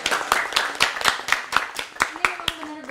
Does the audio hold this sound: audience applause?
yes